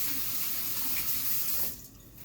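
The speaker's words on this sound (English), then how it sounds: "Rinse off my hands." Hands rinsed under a running kitchen tap, a steady close splash of water that cuts off near the end.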